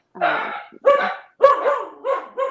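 A puppy barks and yips in four quick, close bursts of high, shrill barking with short gaps between, loud and near, with no talk over it.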